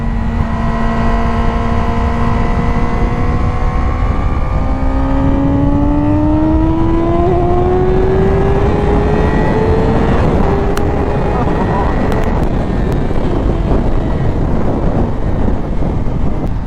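A Yamaha R6 sport motorcycle engine revs up steadily, its rising whine climbing in pitch over several seconds, loud and close with heavy wind noise throughout.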